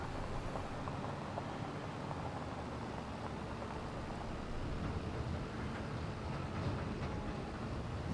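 A train rolls past in the Farming Simulator 25 game on the Riverview map, a steady broadband rumble with rail clatter that holds fairly even and moderately loud throughout, with no talk over it.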